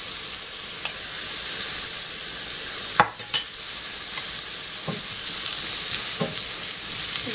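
Mushrooms fry in rendered pork chop fat in a pan, giving a continuous gentle sizzle while a utensil stirs them, with a couple of sharper scraping knocks.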